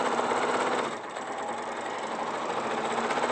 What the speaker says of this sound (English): Why is it going so slowly? I do like that about this sewing machine.